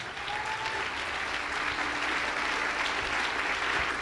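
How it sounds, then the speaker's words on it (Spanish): Steady, loud applause from a large church congregation during a sermon, continuous clapping filling the whole stretch without pause. "démele un aplauso al Señor, por favor"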